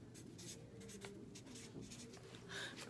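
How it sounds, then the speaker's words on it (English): A pen scratches and rubs across paper as notes are written, close and quiet, in a steady run of short strokes with no speech. "Let me write this down."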